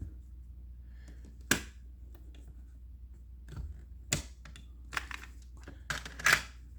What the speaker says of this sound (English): Tape goes in like that.